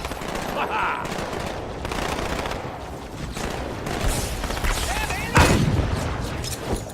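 Gunfire in the Halo 2 video game: rapid automatic bursts rattle almost continuously over busy battle sounds, with a louder blast near the end.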